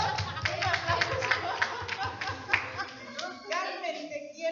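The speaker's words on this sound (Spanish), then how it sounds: "Un aplauso a Carmen Molina, por favor." An audience at an assembly claps in a dense, steady burst of applause that gradually thins out, with voices mixed in.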